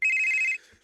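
A phone ringing on an outgoing call, a single short electronic ring tone, clear and steady, then cutting off into quiet.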